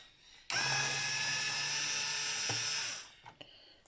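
A Bosch PSR 2.4V cordless screwdriver with a freshly replaced battery spins up abruptly into a loud, steady high whine for about two and a half seconds, dips once, then winds down, followed by a few faint clicks.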